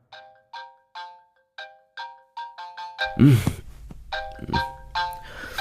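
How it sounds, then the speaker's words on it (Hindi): A phone ringtone plays on a call, with about a dozen evenly spaced melodic tones ringing alone at first, then continuing under voices. "फोन लगाओ उसे फिर से"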